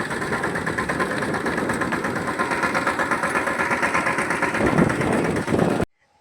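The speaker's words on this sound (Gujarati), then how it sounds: "ટ્રેક્ટર ધગધગમાં બહુ સંભળાય નહીં" A tractor engine rumbles steadily at idle, a dense, loud, vibrating drone that holds without a break for about six seconds and then cuts off abruptly.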